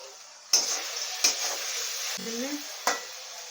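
Grated coconut frying with sugar in a pan, stirred with a few sharp scrapes and clinks of the spoon against the metal over a soft, steady sizzle.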